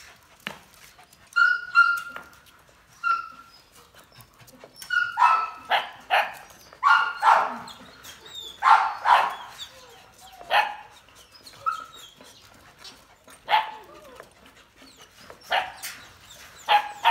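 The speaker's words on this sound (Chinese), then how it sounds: "这条猎梗犬太兴奋了" An excited hunting terrier being trained barks repeatedly at close range, with sharp irregular bursts and a few yips and whimpers between them, loud and clear with no talk over it.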